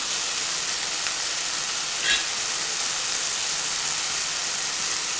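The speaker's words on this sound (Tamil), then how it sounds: "தக்காளி முக்கால் வேக்கடாக வதங்கிருச்சு இந்த டயத்தில் வந்து இஞ்சி பூண்டு விழுந்து சேர்த்துக்கலாம்" Tomatoes with ginger-garlic paste sautéing in a pan for masala chicken, giving a steady, even sizzle and hiss close by with one brief stir-like clink; no talking.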